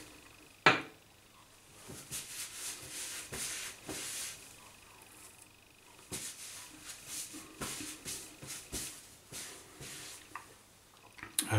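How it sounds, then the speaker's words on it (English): Wet, squishy swirling of a shaving brush working up lather in a bowl, soft irregular strokes with occasional taps and clicks, close and fairly quiet. "We're building up a nice lather here."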